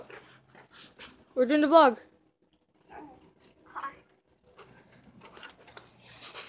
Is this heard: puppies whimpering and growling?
yes